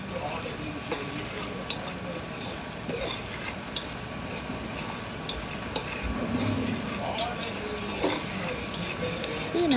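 Fried rice with chili sauce is stirred in a pan, giving a steady sizzle with scraping and light clinks of a utensil against the metal, while a voice talks over it throughout.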